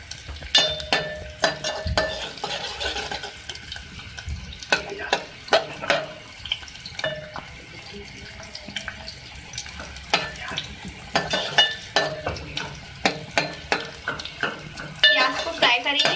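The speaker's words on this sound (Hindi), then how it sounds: "ऑयल में, तेल में आपने प्याज को फ्राई करना है।" Onions frying in oil in a pot for a kaleji dish, with a continuous sizzle broken by repeated sharp clinks and scrapes of a metal spoon stirring against the pot.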